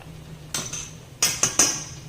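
Hakka noodles being mixed in a pot of boiling water, marked by four sharp metallic knocks of a utensil against the pot, spaced unevenly over a quiet background.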